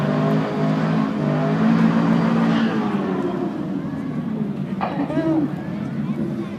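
A Ford pickup truck and a Corvette drag racing down a strip, engines roaring loudly with a rising rev throughout, while voices can be heard faintly beneath the engine noise.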